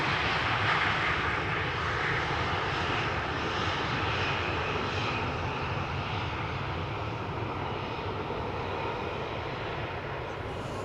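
A Transavia airliner arriving at Amsterdam Schiphol, its engines a steady, loud broadband roar that holds evenly throughout with no other sound on top.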